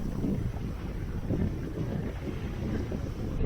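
Steady wind rushes over the microphone aboard a single-handed sailboat running close hauled off the Baja coast, a constant low roar with no talk.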